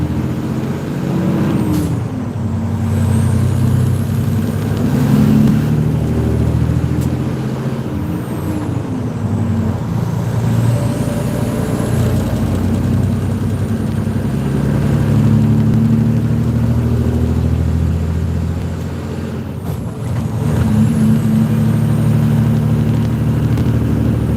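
An old vehicle's engine runs steadily at high RPM, a loud continuous mid-low drone with a brief hiss like an air brake release, lasting throughout.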